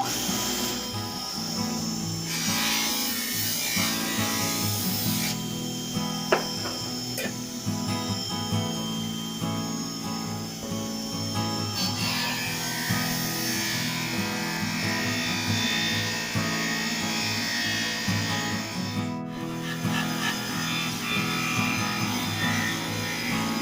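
A polishing wheel buffs a metal putty knife blade, giving a steady loud whirring hum with rubbing, scraping texture throughout and a brief pause near the end.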